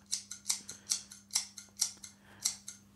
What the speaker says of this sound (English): Is that scissors? The sound. Can you hear it? Is that coming from Storyblocks?